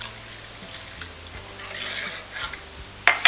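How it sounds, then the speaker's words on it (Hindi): A spoon stirs a sharbat drink in a glass just after water is poured in, making soft, close swishing and scraping, with a sharp clink against the glass near the end. "अच्छे से मिक्स करेंगे"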